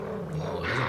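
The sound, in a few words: corgi dog growling in Cowboy Bebop anime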